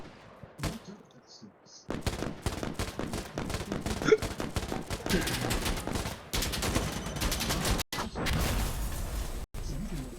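Gunfire in the Insurgency Sandstorm video game: after a short quiet lead-in, loud, dense automatic bursts and rapid single shots run almost without pause, with a few brief gaps near the end.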